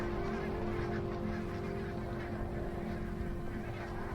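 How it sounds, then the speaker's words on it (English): A flock of barnacle geese honks continuously on a Scottish river in winter, a dense overlapping chorus of calls at moderate distance, steady throughout with no voices. "Every winter, barnacled geese arrive right on cue at the same Scottish river"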